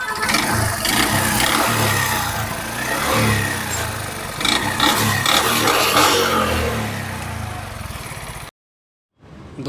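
Bajaj CT 100 motorcycle engine revved repeatedly with the throttle, a loud, busy mechanical roar rising and falling in bursts close by, ending in a brief gap of silence before the engine returns.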